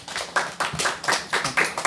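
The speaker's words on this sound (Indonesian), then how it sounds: "Tepuk tangannya dong." Steady rhythmic handclapping rises from a small audience welcoming a speaker at a student organization event, a moderately loud patter in regular bursts with no voices over it.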